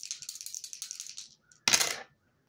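Dice rattle in a quick, bright series of small clicks for over a second, then after a short pause a single louder clattering burst as they land and settle, close and clear.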